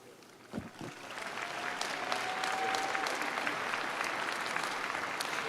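A large crowd at a university commencement applauds doctoral degree candidates, the clapping building from a few scattered claps into steady, sustained applause that fills the room.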